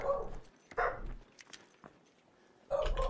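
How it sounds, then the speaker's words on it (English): Dogs barking indoors in a room, a few loud bursts at the start and end with quieter yips and whimpers in between, close by and separate from any speech. "Dogs are going crazy."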